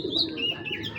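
Pigeons coo and chirp nearby, a brief throaty warble with short higher calls, heard alone without talking.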